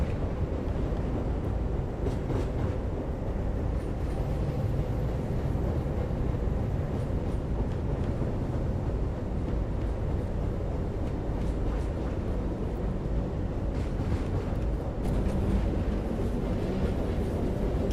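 A London Underground train runs on the Bakerloo line in a railway simulator game, giving a continuous low rumbling drone with faint higher rattles that stays steady and unbroken.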